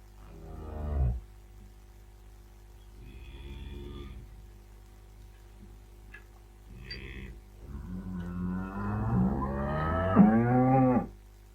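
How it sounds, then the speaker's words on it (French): A cow moos several times, with a short low call, softer lowing in the middle and a long, rising moo near the end, heard clearly on its own. "La vache."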